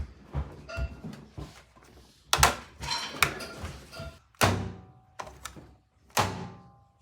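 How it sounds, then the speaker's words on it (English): A metal toolbox drawer is pulled open and knocked about by a strong magnetic motion light, giving a series of hollow thunks and sharp metallic clacks, several loud impacts spaced irregularly and close by. "It can easily pull out a toolbox drawer."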